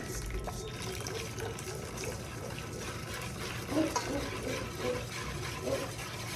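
Hot water slowly drizzled into a bowl, a steady hiss of trickling and pouring, soft and continuous with faint splashy bubbling, close by and without speech.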